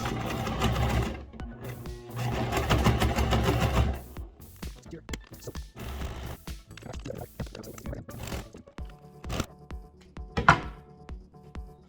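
A sewing machine back-stitches fabric for a stirrup-style boot gaiter, loud rapid whirring bursts in the first four seconds followed by quieter clicks and handling noises.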